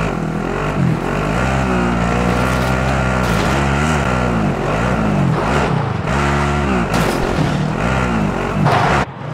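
A vehicle drives in COD Warzone, its engine droning loudly and steadily with rising and falling revs as it shifts and accelerates. A few sharp knocks cut through the engine noise, and no one speaks.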